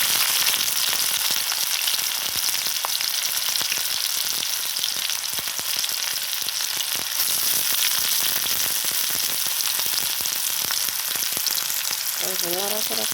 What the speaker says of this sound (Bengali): তেলটা গরম হয়ে গেছে, কারণ আমি পেস্ট দিয়ে দিব।